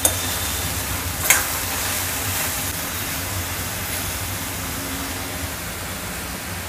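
Chopped ridge gourd sautéing in a pan, a steady hissing sizzle with faint stirring scrapes, a brief clatter near the start, and no talking.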